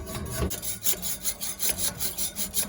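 A hand saw cuts through metal with quick, rhythmic back-and-forth strokes, each pass a rasping scrape close to the microphone.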